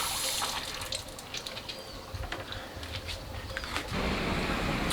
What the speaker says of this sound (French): On va aller remplir la bouteille d'eau avant de partir marcher.